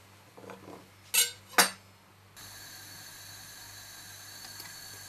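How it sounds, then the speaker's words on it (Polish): A couple of sharp metallic clinks sound, then a soft, steady sizzle of chicken frying in a pan continues quietly. "Zaczynam smażyć mięso."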